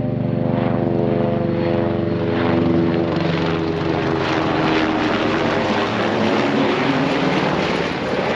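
A helicopter flies over the Everest Base Camp trek route, its rotor and engine giving a loud, steady drone with rhythmic blade chop throughout, alone without talk.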